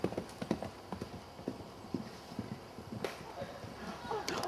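A horse cantering outdoors, its hooves beating a steady, quick clip-clop rhythm at moderate distance, with people talking over the hoofbeats.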